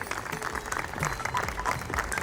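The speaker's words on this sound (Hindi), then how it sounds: "जोर से तालियां बजनी चाहिए।" Audience applause at an 8th anniversary celebration, a dense burst of many hands clapping loudly and steadily throughout, with crowd noise mixed in.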